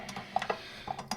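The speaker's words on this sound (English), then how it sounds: "I got my bowl onto my mixer, so I'm going to add my whisk attachment here" Metal and glass clinks as a whisk attachment is fitted onto a stand mixer with the bowl in place: a handful of short, close taps and rattles scattered over about a second, fairly quiet.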